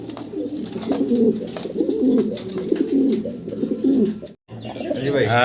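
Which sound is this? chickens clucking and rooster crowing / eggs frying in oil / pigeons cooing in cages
pigeons cooing in cages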